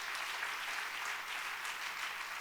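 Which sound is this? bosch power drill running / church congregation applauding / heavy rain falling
church congregation applauding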